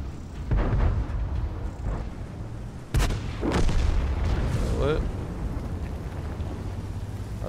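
Tank guns fire in the World of Tanks video game, with a Lorraine 40t among the vehicles. Several booming shots land over a low engine rumble, and a German commentator talks between the blasts.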